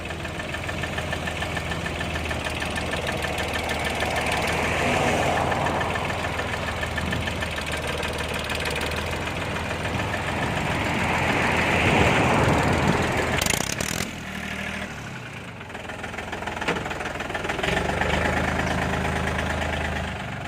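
A diesel tractor engine idles loudly up close, a steady knocking rumble with a brief dip and revving partway through; the exhaust is loud.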